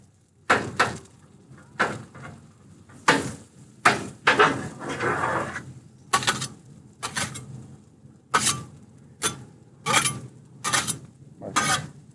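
Metal scraper folding eggs and other breakfast-burrito ingredients on a Blackstone flat-top griddle, heard as a dozen or so sharp, close rasping scrapes in an irregular rhythm with brief pauses between strokes.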